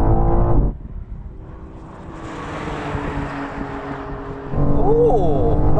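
A BMW M4 CSL and an Alfa Romeo Giulia GTA pull away hard in a third-gear roll-on drag race, gears held manually: loud, tonal engine roars at first, a softer broad rush of noise in the middle, then rising revs surge back.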